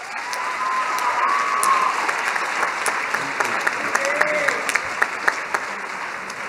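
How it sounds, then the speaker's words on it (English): Applause from a crowd at a university welcome day fills the space, steady and sustained with scattered sharper claps standing out near the end. "Please give them a round of applause."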